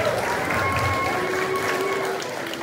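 Audience applause at a fifth grade elementary school promotion ceremony, a steady dense wash of clapping that fills the room at even loudness and tapers slightly at the end, with a few voices mixed in.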